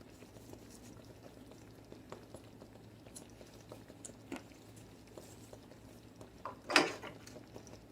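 Drop dumplings simmer on low heat in a covered pot with a quiet, faint bubbling patter, small irregular pops and one brief louder clink near the end.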